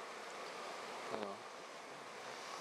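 A steady, dense buzzing of many bees fills the air, with one louder buzz passing close by midway.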